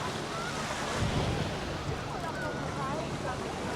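Sea waves at a free public beach in Palermo, Sicily, a constant broad wash of surf mixed with wind buffeting the microphone, a voice speaking over it.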